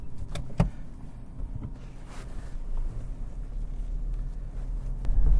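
A 1.8-litre VW Golf Sportwagen base wagon, front-wheel drive, pulls away with a low steady engine and road rumble inside a quiet cabin, a couple of short clicks early on and the hum swelling slightly toward the end.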